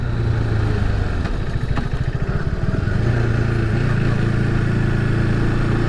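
A KTM RC390 motorcycle runs loud and close, its engine droning steadily with a short uneven, pulsing stretch, like riding through a park, with no talking.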